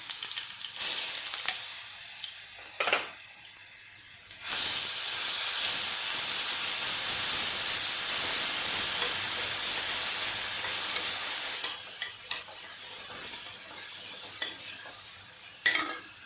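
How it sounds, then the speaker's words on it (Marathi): Onion drops into hot oil with turmeric and mustard seeds on a lowered flame, setting off a loud, hissing sizzle that swells, holds steady for several seconds, then eases back with stirring clatter. "आता गॅस कमी केला आहे मी आणि हा कांदा मी यामध्ये टाकते"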